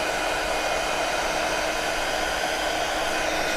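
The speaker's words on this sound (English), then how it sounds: "I'm just going to give it a blast with our heat gun" A heat gun blows hot air to dry a card background, giving a steady, loud, unbroken whooshing roar that holds level throughout.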